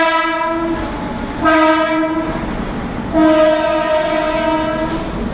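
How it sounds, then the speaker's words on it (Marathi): A Dadar–Ekta Nagar superfast express train sounds its horn in long, loud, sustained blasts that shift in pitch twice, with steady rail noise beneath. "दादर एकतानगर ती ट्रेन म्हणजे डेली रनिंग ट्रेन असते ती"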